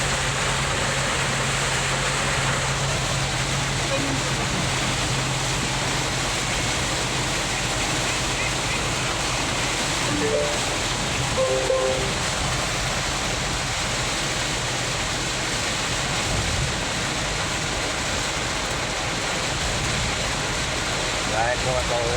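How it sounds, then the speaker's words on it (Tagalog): Very heavy rain drumming steadily on a vehicle driving on a road during a windy downpour, a dense continuous roaring wash throughout, with faint voices now and then beneath it. "Ayan, napakalakas ulan."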